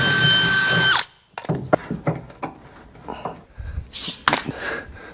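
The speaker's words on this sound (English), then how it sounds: "Step forward is going to be putting our top bolts into where the nose and the side panel meet" A power drill whirs steadily, then winds down as it drives bolts where a kart's nose and side panel meet, followed by several seconds of close clatter and handling noises.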